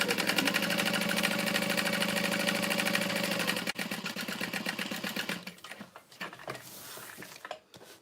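A sewing machine running fast along a tote bag seam, a rapid, even mechanical chatter that holds steady, then breaks into shorter stop-start runs for backstitching before slowing and stopping near the end.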